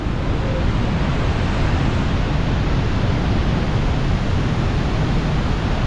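Niagara Falls roars from the Canadian side as a loud, steady, unbroken rush of falling water filling the whole moment, with no pauses and no voices.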